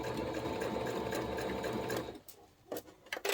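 A sewing machine stitches an eighth-inch seam around a simple fabric sewing notions tray, a steady close mechanical whir that stops after two seconds, followed by a few brief clicks and handling taps.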